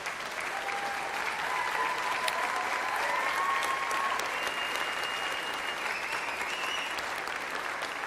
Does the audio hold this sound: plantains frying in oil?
no